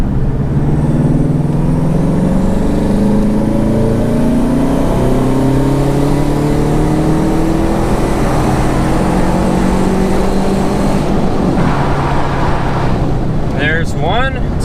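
A turbocharged Subaru engine, converted from naturally aspirated, pulls hard in third gear from about 2,000 RPM toward redline, its loud droning note climbing steadily in pitch under heavy wind and road noise inside the car.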